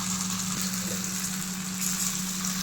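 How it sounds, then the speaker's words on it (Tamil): Raw banana (plantain) pieces frying in oil on a low flame, a steady, even sizzle close by with a low hum underneath, no voices. "வாழைக்காய் வரக்க எண்ணெய் ஊற்றிக்கலாம் லோ ஃப்ளேமில் வச்சு நம்ம ஃப்ரை பண்ணிக்கணும்"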